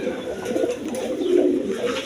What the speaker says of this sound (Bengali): এইখানে এক পেয়ার কবুতর আছে, কালদম কবুতর